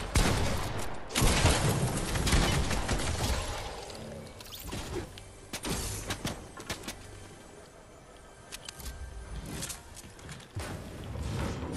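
Rapid gunfire bursts in the Fortnite video game during a Halloween match, with sharp repeated shots and short volleys spread across the stretch over a busy game soundscape, no voices.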